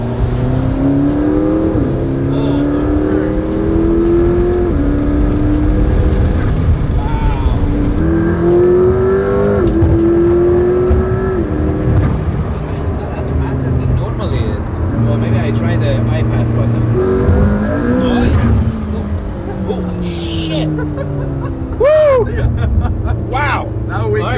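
A McLaren P1 supercar accelerates hard and revs, its engine loud and close with rising and falling pitch sweeps, while excited voices exclaim over it.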